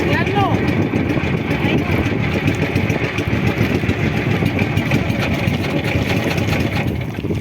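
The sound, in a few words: motorcycle engine idling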